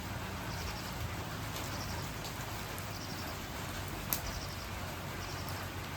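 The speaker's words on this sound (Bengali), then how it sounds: "বাইরে প্রচুর বৃষ্টি করতেছে" Heavy rain falls outside a village home, a soft, steady hiss of drops heard faintly from indoors, with a brief bird chirp and a small knock along the way.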